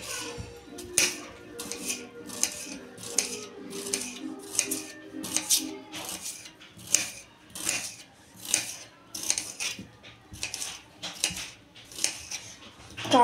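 Knife cuts thinly through onion for kanda bhaji on a board, a steady series of crisp, close chopping strokes about one per half second, with no talk over them.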